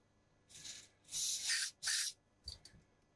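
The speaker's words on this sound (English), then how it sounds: "to squirt the switches full of switch cleaner" Switch cleaner sprayed into the switches of a Hacker Sovereign RP18 radio: a short hiss, then two longer close bursts of spray, followed by a couple of faint clicks.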